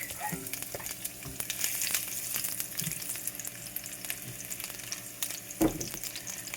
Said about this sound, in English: Once our oil is heat up enough, we're gonna put in our garlic.